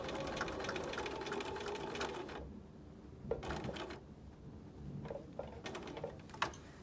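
A sewing machine stitches a fabric mask in a rapid mechanical run that halts partway, followed by a few short bursts of stitching with pauses between them, close and clear.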